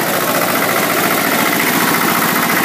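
An Allis Chalmers 920 diesel tractor engine idles steadily nearby, a dense, rattling, vibrating drone that stays loud and even throughout, with no voices.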